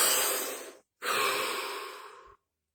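One deep breath close to the microphone, a long inhale, a short pause, then a slow audible exhale, with no talking.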